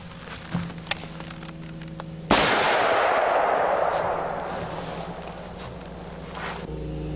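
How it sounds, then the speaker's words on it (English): A single loud, close revolver shot from a .460 firing a factory load, sharp crack followed by a long decaying roar and ringing tail over faint background hum. "Now let's shoot our 460,"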